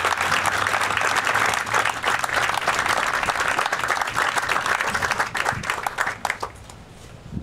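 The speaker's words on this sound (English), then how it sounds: "Please join me in a round of applause." Soldiers and guests applaud two Army units at a color casing ceremony, a full, sustained burst of crowd clapping that tapers into scattered claps and fades near the end.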